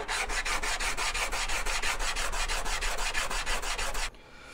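The metal sides of a Harbor Freight hand plane are sanded by hand with 220-grit sandpaper, giving steady, rhythmic back-and-forth rasping strokes, close and even, before stopping near the end.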